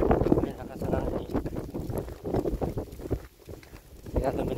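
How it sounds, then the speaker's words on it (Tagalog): Strong wind buffets the microphone in loud, uneven gusts, with a person talking over the roar. "Ay, lakas ng hangin."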